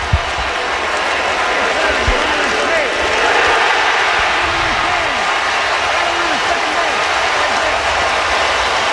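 Baseball stadium crowd at a Detroit Tigers vs Cleveland Guardians MLB game roaring after an overturned call, a dense, sustained wall of crowd noise with a brief thump early on and faint commentary voices mixed in.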